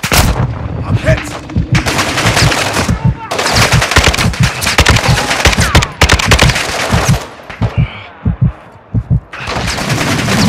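Heavy gunfire from a Call of Duty DMZ firefight comes in dense, loud automatic bursts with short pauses, mixed with radio voices and in-game shouting.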